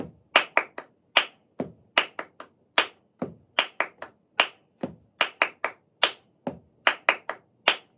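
Crisp flamenco palmas in a tangos rhythm: sharp, close hand claps fall in steady four-beat groups with accented beats, played alone with no talking or other instruments.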